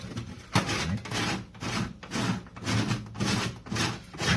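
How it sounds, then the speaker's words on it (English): Jamaican chocolate rubbed against the coarse side of a box grater, a rhythmic rasping scrape repeating in back-and-forth strokes about every half second, close and fairly loud with no talking. "So you're going to grate it on the side of the grater if you have one of these graters."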